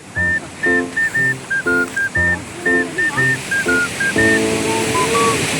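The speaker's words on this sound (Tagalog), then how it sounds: "Ang agos ng tubig dito mga guys sa ilog" A steady wash of rushing river water runs throughout, partly covered by loud melodic music with short, repeating notes.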